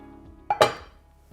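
Two quick clanks as pieces of tub gurnard fish drop into a metal pot, close and sharp, with a faint third knock near the end.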